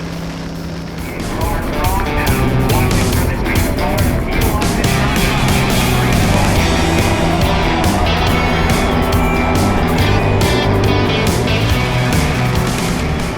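A pack of NASCAR stock cars rolls behind the pace car at Pocono, the Tricky Triangle. After a quiet first second, a loud, dense engine drone holds steady throughout, with layered exhaust tones.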